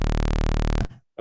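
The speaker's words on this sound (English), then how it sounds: "This is how a sawtooth." A synthesized sawtooth wave tone generated with the Web Audio API plays as a loud, buzzy, harmonically rich steady drone, then cuts off abruptly near the end, leaving brief silence.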